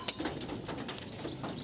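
Pigeons coo softly in a loft or rooftop setting, with several faint, repeated calls spread across the moment and light bird noise in the background.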